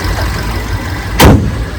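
A Mercedes-Benz GLA 200's engine idles with a steady, low rumble throughout, with a brief louder broadband burst near the end.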